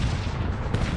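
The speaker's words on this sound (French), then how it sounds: "il essaye de m'attaquer avec des canons" Cannon fire in the strategy game Cossacks 3 rumbles as a dense, continuous barrage of booming blasts, loud and close, with no voices.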